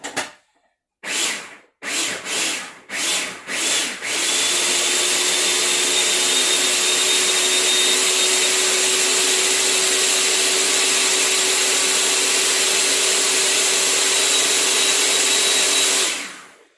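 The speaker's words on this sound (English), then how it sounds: "Turn on the old blender." Blender on pulse mode chopping pesto: several short bursts of whirring motor, then a long, loud, steady blending roar that cuts off at the end.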